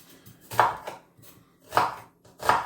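A knife chops food on a board in distinct strikes, a few irregular thuds spaced about a second apart, close and clear with no speech.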